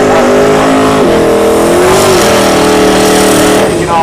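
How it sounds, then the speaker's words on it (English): At a drag strip, a Holden Commodore and a Cadillac CTS-V race car roar loud and continuous, engine pitch rising and dipping as they rev and accelerate, filling the air from start to finish. "The Holden Commodore here on the left. Going up against the Caddy CTSV on the right."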